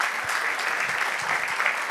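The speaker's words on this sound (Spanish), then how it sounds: "Denle un aplauso al Señor" A church congregation claps for the Lord during a service, a brief, dense wash of applause at steady volume.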